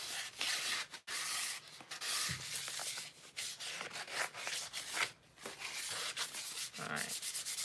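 Hand sanding of a cup's underside, rapid rhythmic scratchy rubbing strokes close up, with short pauses between bursts and no voices.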